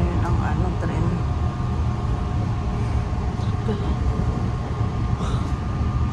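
Subway train running steadily on the rails through a snowy Canadian city, a continuous close rumble and rattle of the car with a faint hum and occasional squeals, no break throughout.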